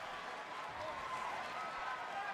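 Crowd clapping and cheering in the wrestling video game WWE 2K25 make a steady, dense arena roar with no breaks, with a voice speaking over it.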